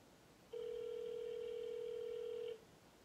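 A steady telephone tone sounds alone for about two seconds during a prank call, one continuous unbroken note that starts and stops abruptly over quiet background hiss.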